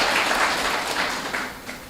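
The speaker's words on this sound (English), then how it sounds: "Let's give her a round of applause." Audience applause at a sports club's tenth anniversary celebration, a steady wash of many hands clapping at moderate distance, sustained throughout without voices.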